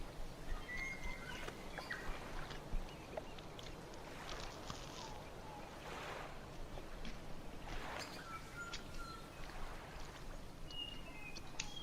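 Faint, scattered bird chirps and short tweets drift over a low, steady wash of water and ambient hiss, in the video game Dredge.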